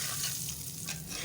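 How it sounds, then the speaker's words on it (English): Turmeric, ground black pepper and chaat masala roast in a hot pan with a steady close sizzle and faint stirring scrapes, no voices. "Now we will roast the spices well."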